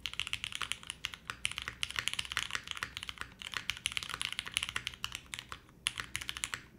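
Rapid, steady typing on a mechanical keyboard, crisp clacking keystrokes close up with occasional brief pauses, no talking.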